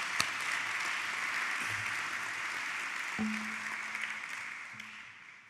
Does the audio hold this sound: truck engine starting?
no